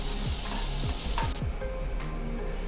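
Green chilli paste sautéed in a pan with oil, a loud close sizzle and crackle of frying with scraping stirs of a spoon across the pan.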